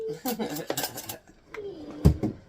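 Metal spoon clattering against dishes while making Uncle Charlie's taco soup, a few sharp clinks near the end after a stretch of talk.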